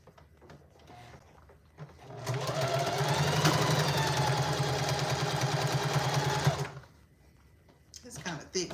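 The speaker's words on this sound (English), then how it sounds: "I'm sewing this using a 1/4 inch seam allowance" A sewing machine stitches a thick fabric book sleeve with a 1/4 inch seam allowance, running slowly in one steady, rapid whirring burst of about four seconds, with quiet handling noises before and after.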